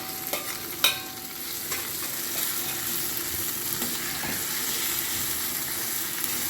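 Tamarind and pirandai (veld grape) fry in a pan for a chutney, giving a steady close sizzle with a few stirring scrapes and clinks near the start.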